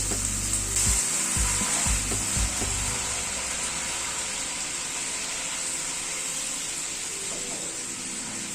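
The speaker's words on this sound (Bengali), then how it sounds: "এবার গরম জল অ্যাড করে দিচ্ছি।" Hot water poured into sizzling cashew paste in a pan for a paneer curry sets off a burst of crackling and bubbling, which then settles into a steady, close, hissing simmer.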